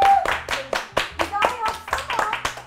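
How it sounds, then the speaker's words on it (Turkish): Handclaps from a few people in a room in Turkey, a loose burst of separate claps mixed with excited talking and laughter throughout. "Hayaletimizi alkışlayalım."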